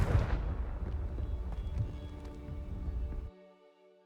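A Confringo fire spell bursts in Hogwarts Legacy, a heavy close boom followed by a rolling, crackling rumble that fades and cuts off abruptly, leaving a faint hum.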